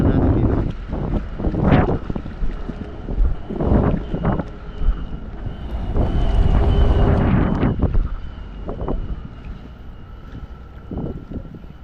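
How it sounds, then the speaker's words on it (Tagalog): Strong wind gusts across the microphone at a dam, producing heavy buffeting rumbles that surge and ease in uneven bursts, close and loud. "Mahangin."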